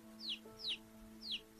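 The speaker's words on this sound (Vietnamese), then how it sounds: "gà bé nhỏ, gà nhỏ này đi từ đâu mà đến đây vậy?" A small chick in an animated film gives three short, high chirping clucks at an even pace, clear and close over a faint steady background hum.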